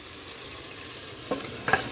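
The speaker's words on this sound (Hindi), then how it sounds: "चिकन को इसके अंदर डाल देंगे और इसको अच्छे से बड़े गैस पे इसको अच्छे से 5 मिनट नीचे ऊपर कर देंगे।" Chicken pieces fry in a cooked tomato masala over high gas heat for biryani, giving a steady close sizzle, with a couple of brief scraping stirs near the end.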